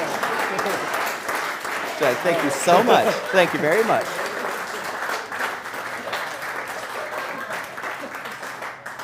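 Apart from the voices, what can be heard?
audience applause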